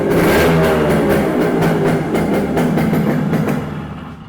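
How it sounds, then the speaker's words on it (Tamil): A motorcycle engine revs repeatedly up close, loud throttle blips rising and falling in quick bursts, then easing off toward the end. "ரேவ் பண்ணி காமிக்கிறேன் பாருங்க."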